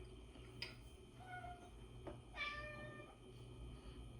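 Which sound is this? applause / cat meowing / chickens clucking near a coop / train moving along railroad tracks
cat meowing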